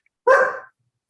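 A dog lets out one short, loud, close bark, alone in otherwise quiet surroundings during an indoor council meeting.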